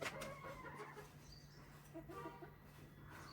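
A hen clucks softly in a backyard, a few low, quiet clucks over faint background noise.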